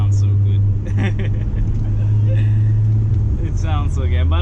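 Audi A4 1.8T, B6 generation, with an ECS exhaust and a catless test pipe, holds a steady deep droning rumble close by, alongside a person talking over it.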